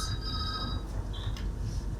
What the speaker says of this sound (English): Oh, it's just a phone.